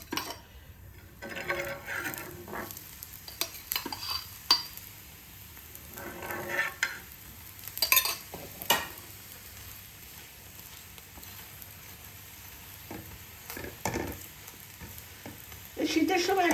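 A methi leaf paratha frying in a pan: quiet, low sizzle with sparse pops and a few louder scrapes and pressing sounds close by.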